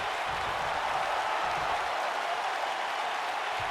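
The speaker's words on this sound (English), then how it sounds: "This crowd is not giving Kevin Owens any love here" Steady roar of a wrestling arena crowd in the WWE 2K video game, continuous applause and crowd noise at an even loudness throughout, with no talk over it.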